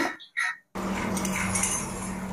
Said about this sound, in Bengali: মশলা কিছুটা কষানোর পর এবার দিয়ে দিচ্ছি ভেজে রাখা ভেন্ডি আর আলু।